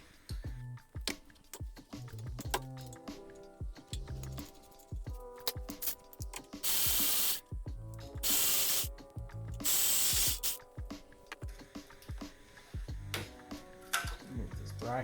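Ratchet wrench loosening the bolts on a Honda Civic thermostat housing, with rapid clicking pawl bursts repeated throughout, broken by a few louder hissing bursts in the middle.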